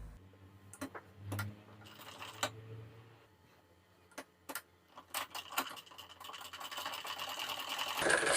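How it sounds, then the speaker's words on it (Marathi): Sewing machine stitching a blouse sleeve hem folded half an inch, with short bursts of rapid mechanical clatter separated by pauses and light handling clicks, then a longer steadier run building toward the end. "मी 1/2 इंच फोल्ड करून घेऊन अगोदर शिलाई देऊन घेणार आहे इथून"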